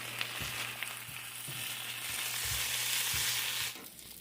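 Onions frying in Blue Bonnet butter in a pan for a breakfast of ham, eggs and potatoes, giving a steady, close sizzle with several soft knocks of stirring until it drops away near the end.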